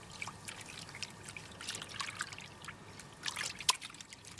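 Crushed quartz and water slosh quietly around a gold pan, making a soft, faint trickling and swishing with scattered small splashes and one sharp little clink near the end.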